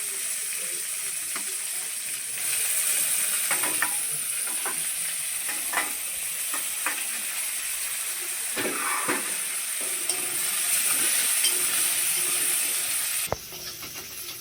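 Onion and green chilli fry in a pan with a steady, hissing sizzle and occasional spatula stirs and taps, close and continuous, with no talk over it.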